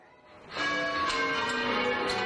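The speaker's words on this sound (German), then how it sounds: "in Westaustraliens Hauptstadt Perth ist wohl einer der modernsten Glockentürme dieser Welt" Church bells ringing in a modern bell tower in Perth, Australia, where some bells are centuries old, a rich chorus of overlapping bell tones swelling in and sustaining loudly in English change-ringing tradition.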